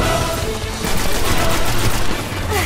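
Gunfire in the video game Destiny, a sustained dense volley of shots and bursts at steady loudness throughout, with no talk over it.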